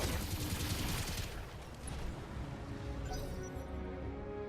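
A mech's full weapons salvo fires in BattleTech, a dense roaring volley of shots and impacts that starts loud and then settles into a rumbling, crackling tail.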